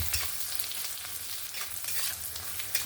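Garlic frying in oil in a pan for a fish curry with eggplant and bitter gourd, a steady close sizzle with soft scraping, heard alone.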